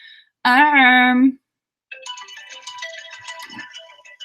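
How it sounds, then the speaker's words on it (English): A phone alarm: a loud electronic tone rings for about a second, then a jangly chiming ringtone melody plays on steadily. "It's my backup alarm."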